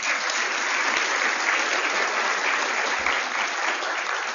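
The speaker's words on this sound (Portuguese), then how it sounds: "Podemos aplaudi-lo, por favor." A large audience at an awards ceremony honoring an executive applauds the vice-president taking the stage, a dense, even wash of clapping that holds steady and loud from start to finish.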